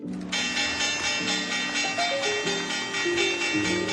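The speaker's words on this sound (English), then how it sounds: "you need not ask for whom the bell tolls" Heavy tolling bell from the video game Paint the Town Red, a loud resonant strike ringing out with long overlapping overtones and slowly shifting pitch as it decays.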